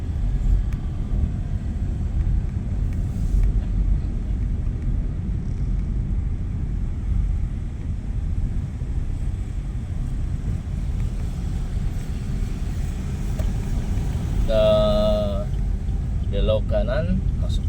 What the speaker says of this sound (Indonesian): Situasi lalu lintas ramai lancar ya begini.